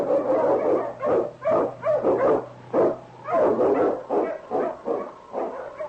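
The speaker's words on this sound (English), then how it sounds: "The Wonder Dog King, swiftest and strongest of Eskimo lead dogs" A team of Eskimo lead sled dogs in a radio drama barks loudly and continuously, a rapid chorus of overlapping barks with brief gaps, close and dominant.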